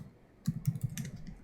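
Keystrokes clatter on a computer keyboard while a Linux command is entered, a quick burst of close, distinct clicks after a short quiet pause.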